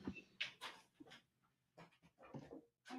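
A dog indoors whines and pants in short, uneven bursts with quiet gaps between them, moderately close and fairly faint.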